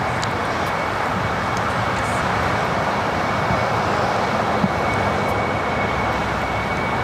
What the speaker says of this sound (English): So that is Eva Air, the 777-300ER, heading back to Taipei.